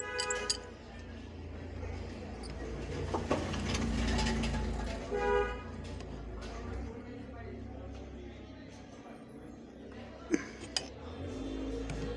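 Tight fitting on a tap being twisted loose by hand, with creaking, ratcheting mechanical turns and a few sharp clinks near the end, heard up close over a low steady hum.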